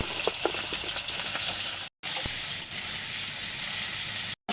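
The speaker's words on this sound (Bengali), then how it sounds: "গাজর বিনসটা ভালো করে তেলে ভেজে নেব।" Carrots and beans fry in hot oil, a steady close sizzle and hiss with a few soft stirring knocks, broken by two brief cuts to silence.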